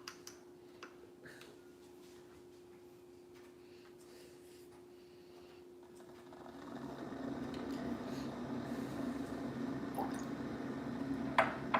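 Water for tea is poured and drips, with a quiet stretch of small ticks and drips followed by a louder, steadier liquid pouring and splashing sound in the second half, with no talking.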